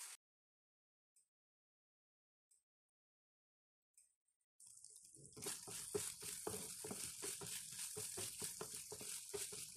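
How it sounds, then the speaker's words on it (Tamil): Marinated chicken dropped into hot oil in a pan bursts into a loud, steady sizzle and crackle that keeps going, after a few faint clinks and a quiet start. "இப்போ மீடியம் ஃப்ளேமில் ஒரு 6 மினிட்டு நல்லா ஃப்ரை பண்ணிக்கிறேன்."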